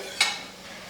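Fried dried lentil dumplings (sandge) get tipped into spiced oil in a pan and stirred, a single brief clatter and rustle over a faint steady sizzle, close and quiet.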